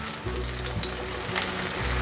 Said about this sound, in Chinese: 先让苦瓜煎定型，待会再来翻面。